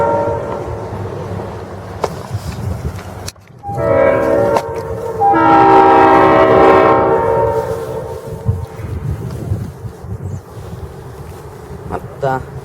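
Train horn blasts sound over a passing freight train at a rail junction in Fostoria, loud and close, with sustained harmonic tones swelling in the middle and rumbling rail noise throughout.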